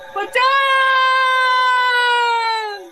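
A cartoon character named Kunkunath screams in terror at a ghost inside a haunted tunnel, one long sustained high-pitched shriek lasting nearly three seconds after a brief scuffling onset, loud and close.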